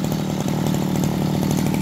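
A used Japanese Mitsubishi TL33 brush cutter fitted with serrated trimmer line cuts grass in a garden, its two-stroke engine buzzing loud, close and steady throughout without any voices.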